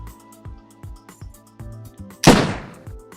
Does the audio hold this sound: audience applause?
no